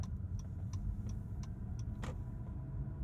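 Acura NSX Type S rolling quietly through a neighborhood just after startup, a low steady road rumble with faint ticking, no strong engine note standing out.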